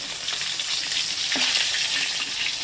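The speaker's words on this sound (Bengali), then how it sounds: "এদিকে মাছটা আমি ভাজছি" Rohu fish frying in oil in a pan, a steady close sizzle with no talking over it.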